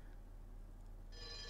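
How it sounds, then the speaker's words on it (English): A stopped alarm starts ringing again, a faint bright electronic bell-like ring that cuts in partway through after quiet low background hum. "The stopped alarm starts ringing once again."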